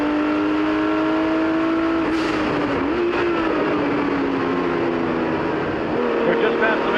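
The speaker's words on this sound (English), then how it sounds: "Bruce Canepa in that white Porsche 935 number 12 is coming" Inside the cockpit of a 1979 Porsche 935 race car at speed, the engine drones loud and steady with shifting pitch through gear changes, while a commentator talks over it.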